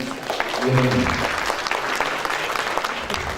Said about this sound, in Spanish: Vamos a darle un aplauso al compañero porque viene bien